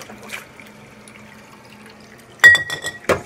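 Washed glass canning jars are rinsed with water, a quiet trickle followed by sudden splashing, glassy clinks and knocks close by.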